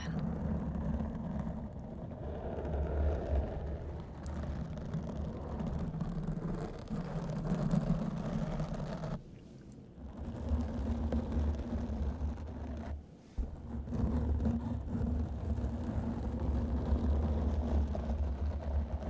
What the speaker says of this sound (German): ich merke schon, dass jetzt sehr viel Auto auf den Straßen wird